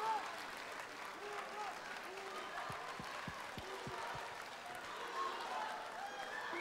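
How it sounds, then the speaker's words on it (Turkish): A television studio audience at a Turkish Popstar finale applauds the winner, Murat, a soft continuous patter of clapping heard from a distance, with music tones and faint voices underneath. "Bir büyük alkış lütfen Murat'a."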